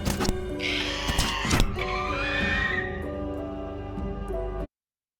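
Sound-designed harpy death screech with reverb added: a loud shrill squeal over a dense rumbling layer, fading into an echoing tail before cutting off abruptly.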